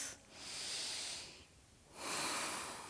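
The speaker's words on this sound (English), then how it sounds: "A few more breaths." Slow, deep breaths drawn by someone holding a yoga lunge with the back knee on a pillow or towel: one long airy exhale, a brief pause, then a strong, close inhale, with no talking.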